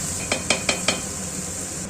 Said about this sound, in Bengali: আবার খুন্তি নাড়িয়ে চাড়িয়ে ভালো করে মশলাটা ভাজতে শুরু করলাম।